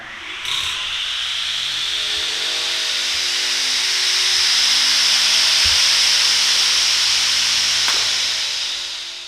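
Battery-powered crop cutting machine running at high RPM, a loud, steady high-pitched whine that swells gradually after starting, holds level, then eases slightly toward the end, with a few faint knocks underneath.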